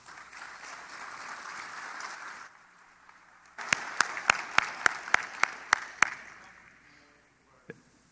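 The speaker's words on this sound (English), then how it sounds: "I would like first that you all give the panelists a big applause" Applause for panelists at a conference on international trade and digital development, a soft crowd clapping that fades, followed by a run of about eight sharp, loud, evenly spaced individual claps and one final clap.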